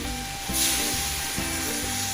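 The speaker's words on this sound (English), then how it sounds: "Now we're going to throw in the coconut milk" Coconut milk sizzles loudly in a hot pan while beef rendang cooks, a steady close frying hiss with a brief surge as the liquid hits and some faint stirring scrapes.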